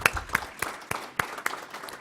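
Scattered, fairly quiet applause from a small crowd at a 2018 ribbon cutting ceremony, sparse separate claps spread across the moment rather than a dense roar.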